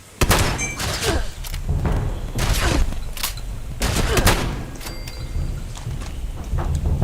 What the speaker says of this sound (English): that feels more shotgun-like